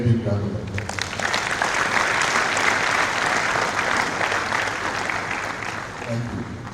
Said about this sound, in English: we need to give him a very big round of applause